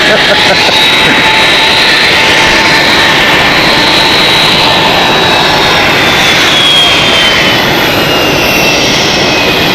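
Jet airliner engines roar loud and close at Zurich Airport, a constant dense rumble with a high whine rising over it, steady for about ten seconds.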